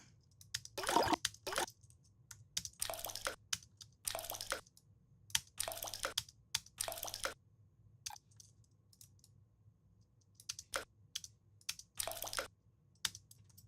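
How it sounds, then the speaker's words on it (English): Liquid drops and splashes falling into water, a sound-effect sample of water hitting other liquid; a series of short, close, separate wet impacts in irregular rhythm, alone with quiet pauses between. "So I'm gonna search a sample of water that falls into other liquid or on the ground"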